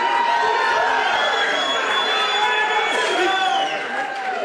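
A large crowd at an indoor campaign roundtable in Pennsylvania cheers and shouts loudly and continuously, with many overlapping voices and some pitched whoops, fading slightly at the end.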